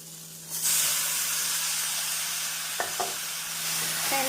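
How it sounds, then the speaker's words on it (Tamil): Cabbage and onions fry in a pan, with a steady close sizzle and hiss throughout, a few brief stirring scrapes near the end, and no talking. "வெங்காயம் இந்த அளவு நன்றாக வதங்கவும் நாம் முட்டைகோஸை சேர்த்து விடலாம்."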